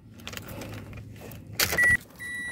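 Key going into the ignition of a Toyota Corolla Altis 1.8 J manual sedan, a brief close jangle and metallic click followed by electronic chimes from the dashboard, with no talking.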